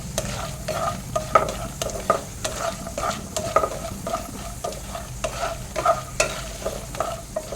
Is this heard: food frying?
yes